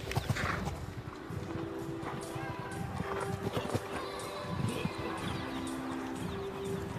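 Hooves of a show jumping horse thud and clip-clop across an arena in a national championship, a rhythmic, moderately loud gallop with a commentator talking over it and crowd ambience behind.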